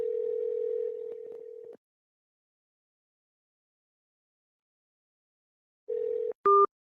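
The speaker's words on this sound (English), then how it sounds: "Don't you love it when people don't want to answer their phone?" A telephone line tone sounds steadily, stops for several seconds of silence, then returns briefly before a sharp two-tone beep, like an outgoing call going unanswered.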